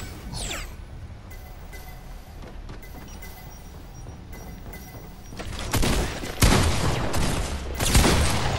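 Gunfire from an unidentified weapon in the Fortnite video game: scattered shots and whooshes early on, then loud, sustained rapid bursts in the second half, close and dense.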